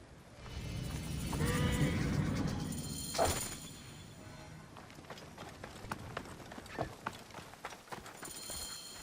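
Horses in the Assassin's Creed Origins video game gallop with rapid clip-clopping hooves, and a whinny rises early on before quicker, lighter hoofbeats continue.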